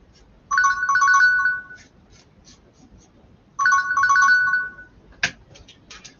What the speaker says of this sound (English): so we have a ringing phone